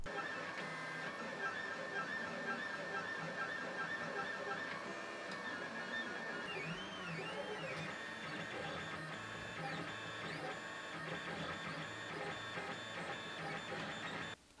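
3D printer printing fingers for a robot hand, a sustained whine of stepper motors with shifting pitched tones and warbling sweeps, steady and close with no speech.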